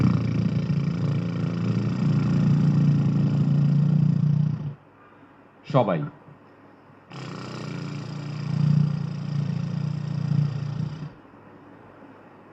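A group of people imitate a motorbike engine by buzzing their lips, making two long, steady, rumbling drones separated by a pause in which a short voice is heard.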